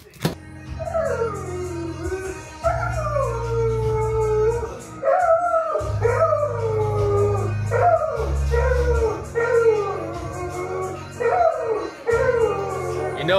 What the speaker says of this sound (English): know it's a good song when a dog's singing it